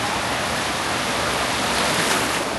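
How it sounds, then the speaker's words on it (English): Waves rolling through the Typhoon Lagoon wave pool at Disney World in Florida, heard as a steady, close, broadband wash of churning water that never lets up, with no talk over it. "Look at the waves coming in."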